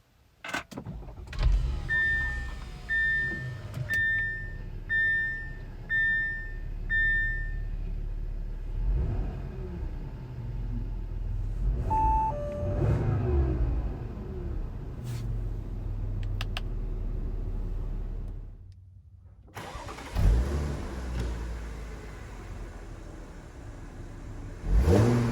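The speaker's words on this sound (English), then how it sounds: "Let's start it up, see how it sounds." A 2013 Audi A7 engine turns over and settles into a low, steady idle with a few brief chimes at the start, and there is no talking.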